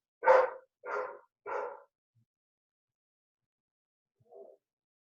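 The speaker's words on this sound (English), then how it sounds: "Sorry, my dogs are barking because they're crazy." Dogs bark inside a house, three quick sharp barks close together, then a pause and one softer bark a few seconds later, with quiet in between.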